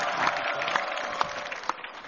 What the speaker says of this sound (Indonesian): Dan sekarang kita kembali bersama dengan 4 biang galau kita berikan tepuk tangan.